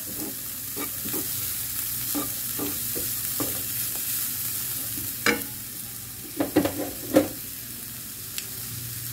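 Carrot and onion stir-fried together in a pan with peas, a continuous close sizzle under repeated clacks and scrapes of a spoon against the metal, louder bursts of stirring near the end.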